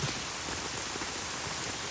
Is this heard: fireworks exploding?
no